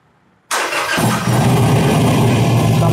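A Harley-Davidson Iron 883 motorcycle with a backfiring and misfiring problem cranks and fires up after a brief quiet moment, then settles into a loud, steady close-up idle with a deep rumble.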